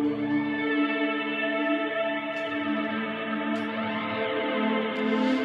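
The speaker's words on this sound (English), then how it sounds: "Engage the delay." Electric guitar run through a BOSS GT-1000 with delay engaged, sustained chords with repeating echoes, three brief bright picked accents cutting through the wash, loud and without speech.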